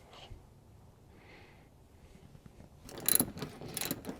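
A ratchet wrench loosens a 10 mm bolt on a Nissan 350Z rear bumper, a quiet spell followed by a close burst of quick metallic clicking and rattling near the end.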